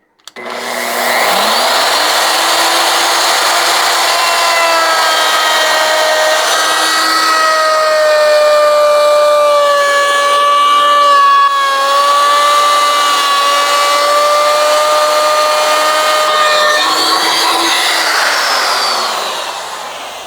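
A power tool cuts a groove in wood using a Matchfit dovetail jig: one loud, sustained whining run of about twenty seconds that starts up abruptly, holds a steady pitch with slight shifts under load, then winds down.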